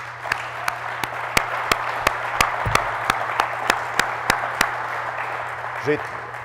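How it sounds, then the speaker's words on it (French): Applause for factory workers at a press conference on financial aid for Simard Suspensions, a light scattering of evenly spaced claps over a low hum, with a brief voice near the end. "c'est à eux que j'offre la main d'applaudissement en premier"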